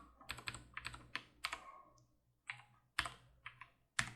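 Key presses on a computer keyboard entering a Shift Ctrl C shortcut, a run of sharp, close clicks in uneven bursts with short pauses, no talking.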